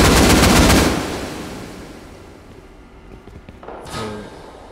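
Loud bursts of rapid gunfire in a tactical military shooter game open the clip, then fade into a low rumble before a short, sharp volley near the end.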